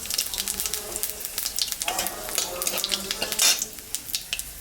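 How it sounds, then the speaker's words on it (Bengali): Cumin seeds and a dried red chili sizzle as tempering in hot oil left from frying raikhor fish, a crackling hiss broken by scraping and clinking as a spoon stirs the pan. "মাছ ভাজা তেলের উপরে আমি জিরা সম্বরা দিলাম আর একটা শুকনো লঙ্কা সম্বরা দিলাম"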